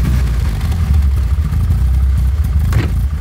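A chrome-laden Opel Rekord fitted with a newer engine rumbles at close range, its exhaust giving a loud, steady low burble with a slight rev swell near the end.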